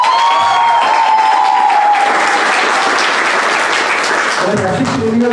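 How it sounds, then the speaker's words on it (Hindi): An audience breaks into sustained, loud applause to welcome the poet Rasika at a poetry recital. The clapping is a dense, even wash throughout, with a voice faintly audible over it at the start. "जोरदार ताली के साथ स्वागत कीजिए रसिका जी"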